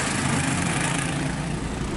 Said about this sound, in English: quickly getting the mechanics to get the engine started to get me out